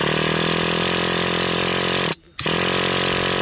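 A Revo 3.3 nitro engine in an RC car runs with the muffler blocked, making a loud, close, buzzing harmonic drone that cuts out briefly midway, then resumes at full volume.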